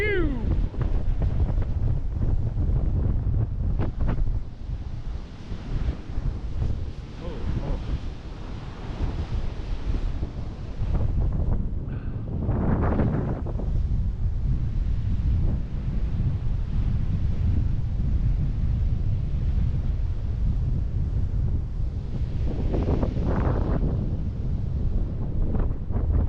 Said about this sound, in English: It's blowing. It's 40, 50, 60 mile an hour gusts out here.